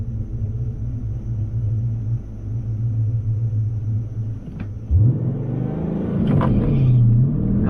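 A cammed Dodge Challenger R/T muscle car on a drag track, a lumpy loping idle rumbling steadily before the engine suddenly revs hard and pulls away, loud and close, its rough note climbing.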